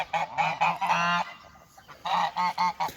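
Normandy geese honk loudly and close by in a quick series of harsh, nasal calls, with a brief pause midway.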